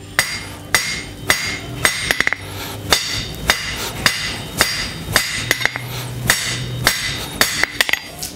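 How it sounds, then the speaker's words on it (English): A hammer strikes copper on an anvil while a spatula is being forged: about a dozen sharp, ringing blows at a steady, unhurried pace, loud and close with no talk. "when I get to right here, I'm gonna be on the face of the anvil"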